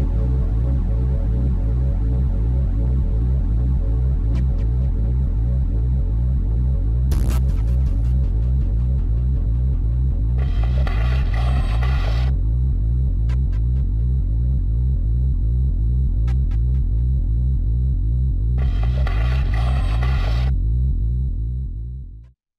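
Music from the video game Armored Core 2: Another Age, with a steady pulsing electronic bass and rhythmic synth layers that play continuously. Brief bright percussive bursts punctuate the loud track throughout.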